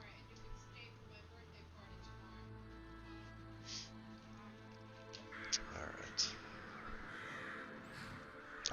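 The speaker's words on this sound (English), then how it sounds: "I absolutely love that with the crows." Crows caw in the evening in Skyrim, the video game: several harsh, scattered caws rise over a low ambient game soundscape, with the calls growing busier toward the end.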